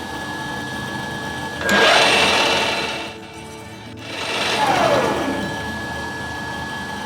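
A 1900s Drummond lathe running on a 10mm belt over a pulley gives a steady mechanical whine with a constant tonal hum, swelling twice as the speed rises and falls.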